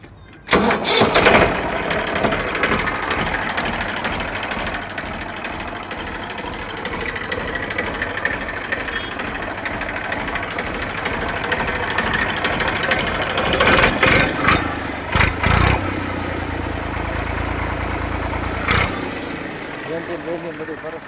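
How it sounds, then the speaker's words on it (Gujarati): A Massey 7250 tractor with double clutch and DI pump starts and settles into a steady diesel idle, a close continuous rumble with someone talking over it. "એન્જિન બધું પરફેક્ટ છે, લીવરે બાંધેલું, DI પંપ આવે."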